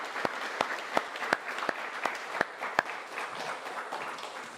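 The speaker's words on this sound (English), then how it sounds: "Please give him a round of applause." Audience clapping at an annual award presentation day in a hall, a steady wash of applause punctuated by several sharper individual claps near the front, moderately loud and continuous without any talk.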